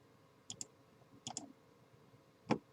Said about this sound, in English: Clicking on stuff, it doesn't work.